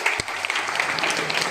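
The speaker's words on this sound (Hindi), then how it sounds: "जोरदार ताली" A seated audience at a product talk breaks into loud, brisk clapping, a short dense burst of many hands with one sharp thump near the start.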